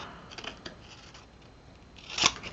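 Scissors snip paper while trimming the corners of a handmade Christmas snap flipbook album. Several soft cuts come close together, then one sharper, louder snip near the end, with no talking.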